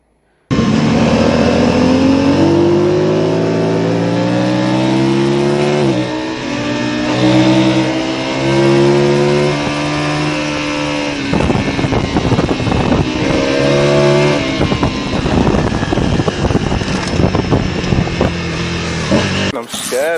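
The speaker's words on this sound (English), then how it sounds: "Your throttle's stuck." Motorcycle engine with a stuck throttle, revving loud and close with rising and falling harmonic whine, then rough sputtering bursts, under frightened talk and shouting.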